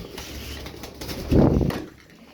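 Tumbler pigeons, kept as Turkish play birds, make soft cooing sounds close by, and a brief louder burst of flapping wings comes in the middle, over a quiet background.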